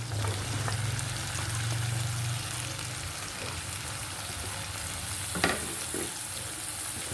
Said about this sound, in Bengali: এই পর্যায়ে কিন্তু কেটে রাখা আলু আর বেগুনটা দিয়ে দেবো।